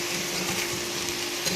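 Poa fish frying with eggplant and potato in a pan with whole spices, a steady close sizzle with soft stirring scrapes running through, no voices.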